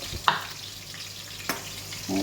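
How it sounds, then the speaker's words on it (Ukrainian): Steady sizzling of garlic and steak frying in a pan, with a couple of light clinks of a utensil stirring, no talking. "Ось так хай прожарюється."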